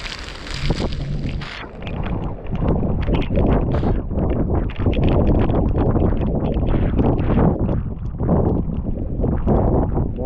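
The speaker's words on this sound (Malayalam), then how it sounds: "ശക്തമായ കാറ്റ് വീശുന്നുണ്ട് ഇവിടെ" Strong wind at a fog-covered hilltop viewpoint in Mahabaleshwar, Maharashtra, pounding the microphone in loud, continuous rumbling gusts with no letup.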